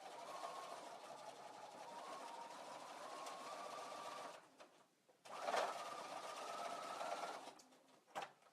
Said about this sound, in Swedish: Så, där ska jag sy.